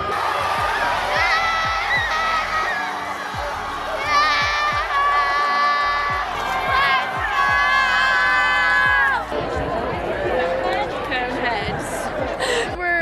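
A high school football crowd cheers and shouts on a Friday night, with children yelling and cheerleaders chanting under a steady roar of chatter and excited voices, loud and continuous throughout.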